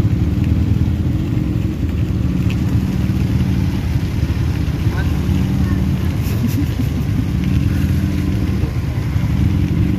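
A vehicle engine rumbles steadily and fairly loudly as it drives toward the start line of the Banjarsari carnival, the driver working the clutch, with a continuous low drone throughout.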